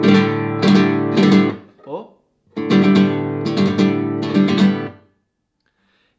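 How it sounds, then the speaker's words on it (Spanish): A close flamenco guitar plays pinch rasgueo in two bursts of rapid, loud strummed chords, separated by a brief pause, then fades to near silence. "contrasta completamente con el rajeo de pinza, que suena así"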